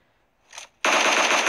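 Automatic gunfire in the video game PUBG: a faint brief noise first, then a sudden loud, rapid burst of machine-gun shots that keeps up to the end, close and dominant with no talk.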